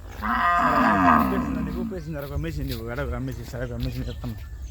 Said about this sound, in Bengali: গরু আমাকে ডাকছে।